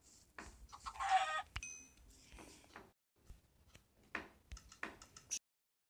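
Clucking from a chicken in a video game, several short bursts mixed with clicks and other game sounds, quiet and close.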